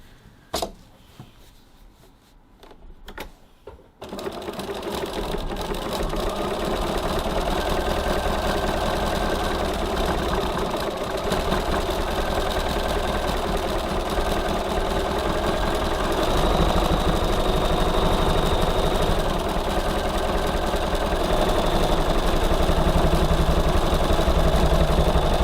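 A sewing machine zigzag stitching the side seams of a fabric tote bag with soft and stable interfacing, starting after a few faint clicks and then running as a steady, loud mechanical whir for the rest of the clip.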